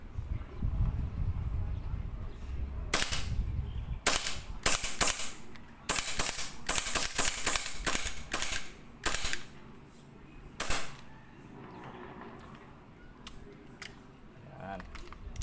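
A rebuilt WE Hi Capa Dragon cap gun fires a run of sharp, loud snapping shots, some single and some in quick bursts, with quieter pauses between them.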